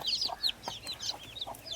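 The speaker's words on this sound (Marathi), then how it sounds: "मित्रांनो चौदा पिल्लं काढलेली आहेत कोंबडीने इकडे बघू शकता खूप छान पिल्लं आहेत" A desi hen with fourteen newly hatched chicks: a quick scatter of high, thin chick peeps repeating in short bursts, with soft low clucks from the hen underneath, close and fairly quiet, no talking.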